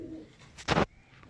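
Pigeons belonging to Ustad Maqbool give a brief low coo, followed by a short, loud burst of noise, all within a second or so.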